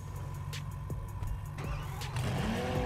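A car engine idling steadily in GTA 5, a low, even hum sitting under a few faint clicks and bumps, fairly quiet and fairly constant, rising a little toward the end.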